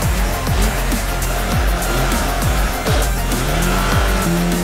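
A Zhiguli car is driven round in a circle on a track, its engine droning loud and steady while the revs rise and fall repeatedly, with tire noise throughout.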